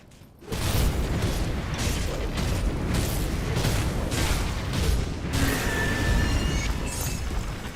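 Fire rocks hurled at the player in the action RPG Grim Dawn, a dense rumbling barrage of booms and crashing impacts that sets in abruptly and continues loud and unbroken, with a brief ringing tone near the end.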